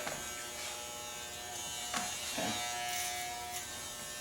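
Electric hair clippers fitted with a guard buzz steadily and close during a boy's summer haircut, with a few brief louder swells as they move across the head.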